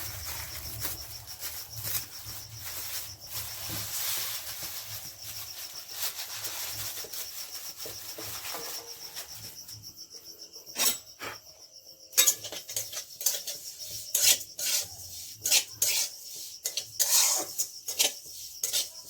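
Sesame seeds dry-roasting in a pan, stirred constantly: a soft continuous rasping rustle, then louder intermittent scrapes and metallic clinks of a spatula against the pan in the second half.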